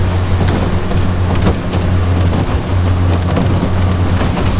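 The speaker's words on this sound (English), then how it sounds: "Big old gust of wind." A loud, steady roar of rushing 14 mph wind fills the clip, a strong gust buffeting a skiff running at full throttle over choppy open water, with a low engine drone underneath.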